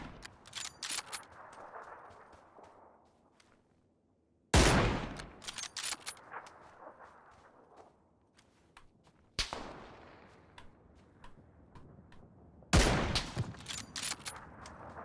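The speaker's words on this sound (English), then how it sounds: "people trying to shoot me from everywhere" Gunfire in PUBG on Xbox, four loud sudden shots or bursts spaced a few seconds apart, each with a long decaying echo, mixed with quieter scattered distant cracks and no talk.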